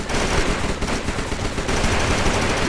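A gun firing at zombies in the mobile shooter Mega Zombie M, loud dense automatic fire that rattles on steadily without a break.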